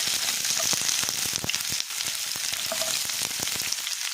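Onions frying in coconut oil for an egg green masala, a loud, close, continuous sizzle dense with crackling pops, heard alone without any talking.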